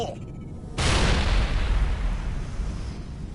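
A grenade detonates in the Mass Effect video game with a sudden loud broadband blast that rolls into a long, dense rumbling roar and gradually decays, after a brief moment of quieter ambience and faint talk.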